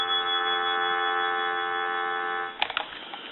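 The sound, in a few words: telephone dial tone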